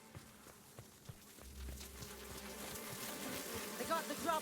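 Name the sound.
insect buzzing in The Outer Worlds video game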